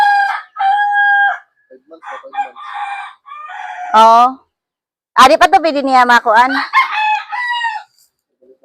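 A rooster crows loudly and close by, with chickens clucking around it in a home garden flock, the calls coming in several bursts while people talk over and between them.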